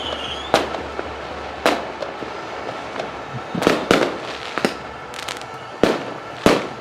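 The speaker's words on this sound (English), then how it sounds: "Absolutely marvelous view that we have of all the fireworks going off." Fireworks bursting over a stadium during an opening ceremony: roughly eight sharp, loud bangs at irregular intervals with a few softer crackles between them, heard alone without talk.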